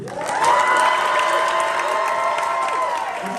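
Small crowd at a benefit concert in Ridgefield Park applauding and cheering, a loud swell of clapping mixed with whoops and high shouts that stays strong for a few seconds.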